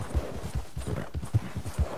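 Horse hooves clip-clop at a steady walking rhythm in Red Dead Redemption 2, close and clear, each beat a low thud, with no talk over it.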